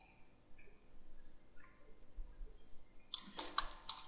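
Typing on a computer keyboard: a quick cluster of sharp, close key clicks near the end after quiet, faint tapping, with no voice.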